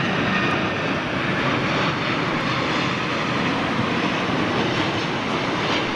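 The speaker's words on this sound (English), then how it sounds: "So, looks like Virgin's Dreamliner." A Virgin Boeing 787 Dreamliner jet airliner flies over near London Heathrow, giving a loud, steady broadband engine roar that holds constant for the whole stretch without any talk.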